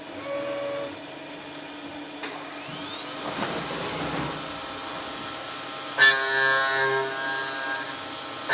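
A machine in a race-car factory workshop cuts aluminium into swarf with a steady, droning whir and high tonal whine, punctuated by a couple of sharper tool engagements.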